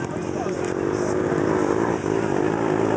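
An ATV four-wheeler engine revs steadily in mud at a mud park, a loud continuous motor drone that dips briefly near the end, with people talking over it throughout.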